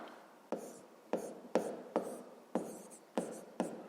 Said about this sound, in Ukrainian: Пишемо так.